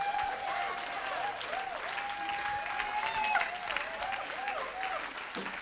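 Church congregation applauding steadily in a large hall to acclaim the Lord, dense continuous clapping with a sustained voice or organ-like tone running above it throughout.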